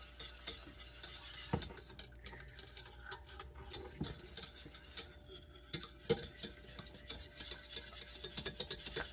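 A well-worn whisk scraping and stirring a creamy casserole sauce in a pan, with irregular clinks and taps of metal against the pan bottom, quiet and close, no voices.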